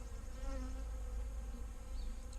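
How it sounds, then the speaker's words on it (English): Honey bees in an opened hive colony give a dense, steady drone close by, a continuous hum with no voices. "A lot more bees in this colony than were before."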